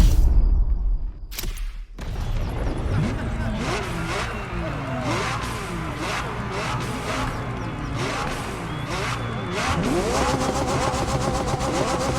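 A Triumph motorcycle engine revs repeatedly in The Crew Motorfest racing game, its pitch rising and falling in wavering sweeps before a final climbing surge, loud and continuous throughout.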